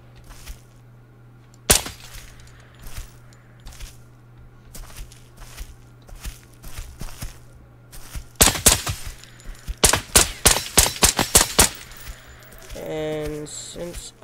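Full-auto MP7 submachine gun fire in the shooter game Operator, several rapid bursts of sharp shots clustered in the second half, preceded by a single isolated shot and footsteps, with game noise running beneath.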